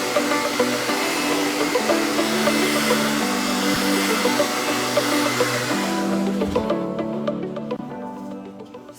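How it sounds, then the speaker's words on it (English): A hair dryer blows with a loud, steady whirring roar, pointed down while drying hair, its airflow fluttering slightly, then the tone shifts and quiets near the end. "normally you'll hold the hair dryer pointed down so that you're not blowing your frizzy"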